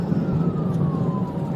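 Police car siren during a high-speed chase, a faint wailing tone sliding down over loud road and engine roar.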